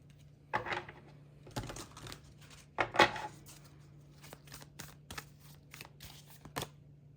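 Green Witch Oracle cards being shuffled by hand, a series of soft papery riffles and flicks in irregular bursts, close and quiet, with no talk.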